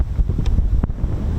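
Strong wind buffets the microphone at an RAF air station, giving a continuous loud rumbling roar with gusty surges and brief bursts throughout.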